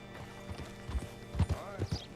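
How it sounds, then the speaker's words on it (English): Horse hooves in Red Dead Redemption 2, a few uneven clip-clop steps as a horse is brought up and hitched, fairly quiet, with a brief whinny near the end. "Hitch your horse up here."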